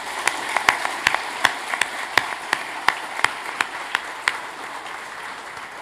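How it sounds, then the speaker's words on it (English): An audience at an Army Futures Command ribbon-cutting ceremony applauds, a moderately loud wash of many hands clapping with sharp individual claps standing out across the whole stretch, heard from a slight distance. "let's give everybody who contributed to that effort a round of applause right now"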